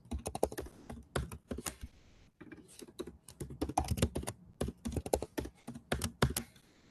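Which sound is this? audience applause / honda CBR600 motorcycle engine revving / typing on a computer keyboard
typing on a computer keyboard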